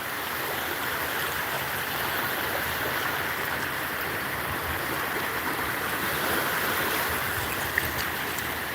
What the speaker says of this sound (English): Here's the beach.